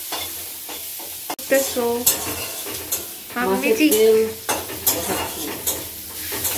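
Fat from hilsa fish fries and gets stirred in a home kitchen pan, with steady sizzling, scraping stirs and a sharp clink of utensil on metal, while muffled voices talk over it.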